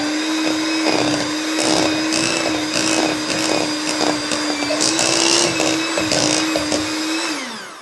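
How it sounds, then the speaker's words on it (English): An electric mixer whirs steadily through sugar cookie dough, a loud close motor hum with rhythmic churning bursts, then winds down at the end. "before I put my mixer on, I always give it a mix"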